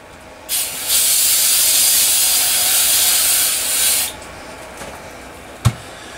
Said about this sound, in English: Give it a little rinse.